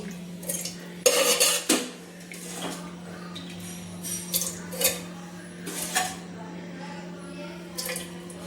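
Chicken gravy for Kolkata-style chicken biryani being spooned into a pot, with metallic spoon clanks and scrapes against the pot over a steady electrical hum, interspersed with quieter shuffling.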